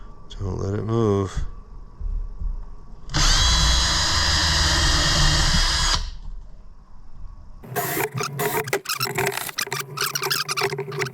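A power drill with a 13/64 bit cuts holes in one sustained, loud burst of about three seconds, followed by clattering and handling noises, with a short stretch of talk before it.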